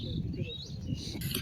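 Birds chirp and tweet at dawn in a foggy rural Jessore area where date palm sap pots are collected, with bright calls flickering over a steady low rumble and murmur of voices nearby.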